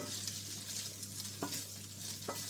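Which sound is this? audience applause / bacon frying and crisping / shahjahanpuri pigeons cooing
bacon frying and crisping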